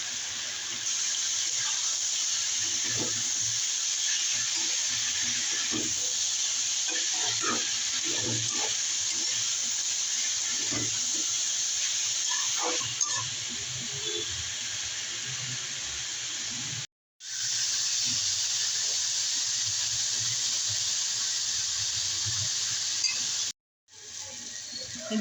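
Sliced bitter gourd fries in a pan, a steady close sizzling hiss with small crackles and stirring scrapes, briefly cutting out twice.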